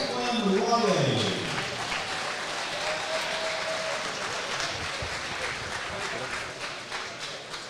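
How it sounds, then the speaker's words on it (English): A crowd at a Scottish youth and elite boxing championship applauds boxer Declan Riley, a dense, steady round of clapping that follows an announcer's voice and continues at moderate volume. "please give applause for Declan Riley"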